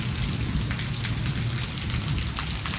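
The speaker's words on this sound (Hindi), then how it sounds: "बारिश हो रही है।" Steady monsoon rain pouring down and spattering on surfaces, a dense continuous hiss with close droplet patter and a low rumbling undertone, with no voices.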